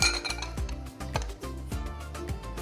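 A cocktail is strained over ice into an old-fashioned glass, producing a quick run of close, bright clinks and ice knocks in an uneven rhythm, with no voices.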